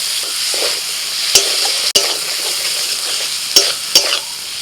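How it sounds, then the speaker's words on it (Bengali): Fried prawns go into a spiced masala already releasing its oil, and they sizzle steadily as the pan is stirred, with a few sharp utensil scrapes and clicks breaking through the continuous frying hiss. "এবার দিয়ে দিচ্ছি ভাজা চিংড়ি মাছ"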